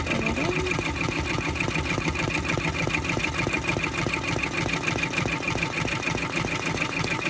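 Domestic sewing machine running steadily while stitching a zigzag step, a continuous fast mechanical clatter with regular needle beats, close and even throughout.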